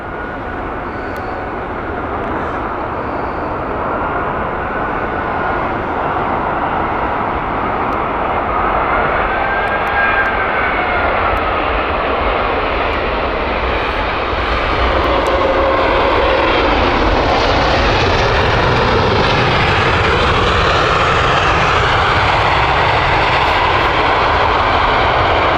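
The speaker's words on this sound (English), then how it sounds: "Here comes EK1, the Super Jumbo of the Emirates A380." A large four-engine Emirates Airbus A380 jet airliner passes at Heathrow Airport, a broad, steady engine roar that holds loud throughout and swells slightly as it goes by, with no talk.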